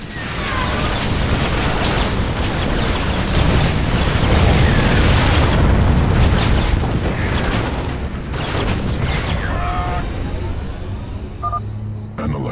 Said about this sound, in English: Fire the damn warhead now!